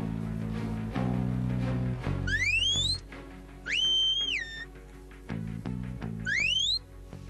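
Three sharp sheepdog herding whistle blasts for Border Collies herding sheep in Lower Austria, rising and warbling high pitched notes with pauses between them, over a low steady hum.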